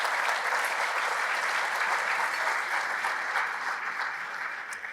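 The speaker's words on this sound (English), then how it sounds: "A big round of applause for all of our sponsors." Steady, full audience applause for sponsors at an evening awards ceremony, a dense continuous wash of clapping with no talk over it.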